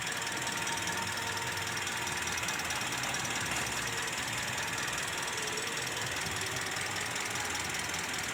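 Toyota Vios with a 1NR-FE engine idling while an ignition coil misfire is tested, giving a continuous mechanical hum with faint ticking and a slightly uneven rhythm, steady and moderately quiet with no talking.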